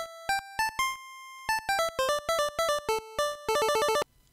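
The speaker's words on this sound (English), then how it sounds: "The first two voices can only produce square waves that sound like this." NES sound chip square-wave voice plays short bright beeping notes in a choppy melodic run, ending in rapid repeated blips, clean and electronic with no voices.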